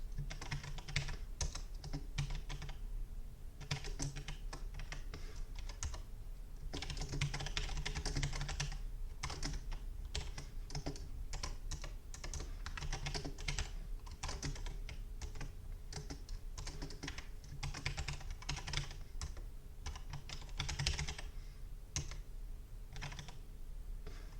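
Fast, steady clicking of computer keyboard keys as Swift code is typed, near and continuous with short pauses between bursts, and no voice.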